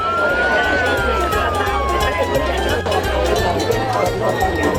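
A police car siren wails steadily over a dense, loud crowd with music and chatter in Sicily, its pitch slowly sliding, partly buried in the surrounding noise.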